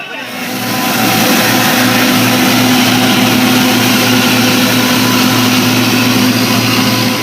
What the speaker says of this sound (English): look at that bike